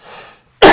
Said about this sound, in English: That's a bad time for a cough.